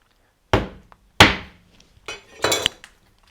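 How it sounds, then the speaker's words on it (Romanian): A cleaned fish carcass being broken apart and cut on a board for soup, four sharp close thunks and cracks with brief clinks between them in a quiet kitchen. "Doar îl rupem, îl tăiem un pic aici și la fiert."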